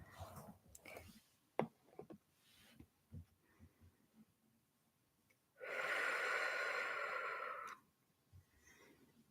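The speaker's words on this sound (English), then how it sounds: "let's take a few deep breaths as we get ready." A few deep breaths drawn in and let out during a closing ceremony, with a loud, steady rush of breath lasting about two seconds standing out among quieter scattered breaths and small noises.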